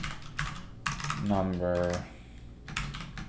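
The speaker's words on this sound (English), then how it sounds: "I like typing to get that muscle memory going on" Typing on a computer keyboard while coding, with quick irregular key clicks before and after a short spoken word from a man.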